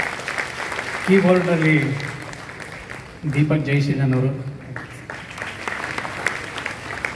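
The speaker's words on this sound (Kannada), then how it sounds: "ಅವರಿಗೊಂದು ಚಪ್ಪಾಳೆ ಕೊಡಿ ದಯಮಾಡಿ." Audience applause for the accompanying musicians at a live song performance, a steady wash of clapping running beneath a voice introducing the players.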